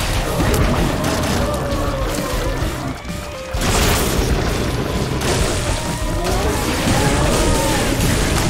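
Metroid rockets blasting in The Binding of Isaac: Repentance, a dense run of booming explosions and crashes over a busy game soundtrack, with a brief dip before the blasts resume.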